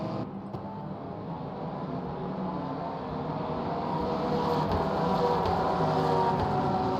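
Porsche GT3 race cars running at Silverstone, a steady layered engine drone that swells slightly louder toward the end as the cars draw nearer, with no voices over it.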